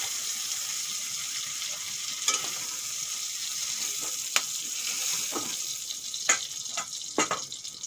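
Shrimp seasoned with turmeric and salt frying in oil in a pan, a steady close sizzle with occasional sharp crackles and pops, no talking.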